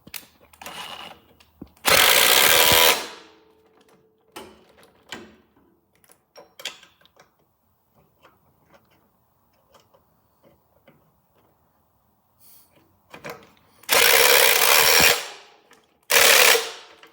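A power tool on a Triumph TR250 shock tightens a spring compressor plate in loud, several-second bursts, with quiet clicks and ratchety handling sounds in between.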